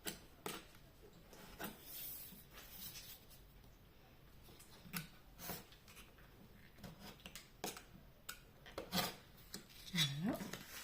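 A cutter or scissors slices through paper card for a pop-up staircase card, heard as faint, scattered scraping and snipping strokes at an uneven pace, close and quiet, with a small voice sound near the end.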